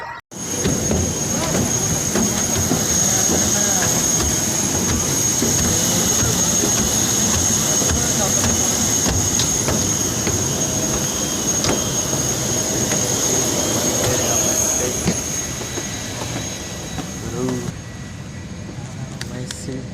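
A passenger jet's engine roars steadily at an airport boarding area, a loud continuous whine and rumble with a high tone lasting most of the time, while people talk nearby.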